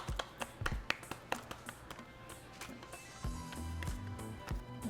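Soft dough for a gordita slaps between palms in a quick, even series of light claps, then gives way to quieter pressing and handling sounds, close and fairly faint.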